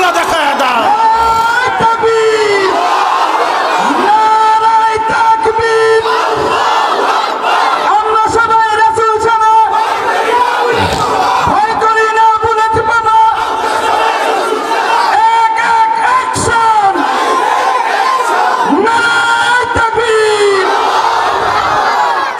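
A large crowd at an outdoor Islamic sermon gathering shouts the takbir in unison, with loud, rhythmic waves of massed voices repeating the cry again and again and brief pauses between them.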